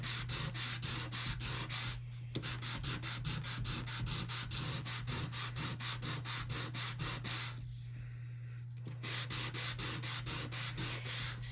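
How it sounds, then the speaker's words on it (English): Close, steady rhythmic rubbing as two-tone cardstock with a white core is sanded by hand, quick regular back-and-forth strokes with a brief pause midway, over a constant low background hum. "So then by sanding off some of that,"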